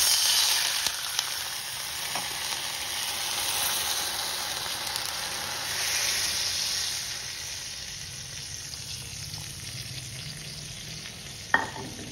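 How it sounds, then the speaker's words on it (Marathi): Water added to a hot kadhai of tadka sizzles and hisses steadily for several seconds, the crackle swelling and easing, close up and fairly quiet, ending with a small clink. "आणि कढईमध्ये थोडंसं पाणी घालायचं आहे।"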